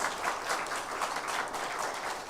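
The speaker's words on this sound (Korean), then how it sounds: "없으면 우리 박수로 받겠습니다." Church congregation applause during a Sunday service, an even, moderate wash of clapping from a gathered crowd, steady and slightly distant.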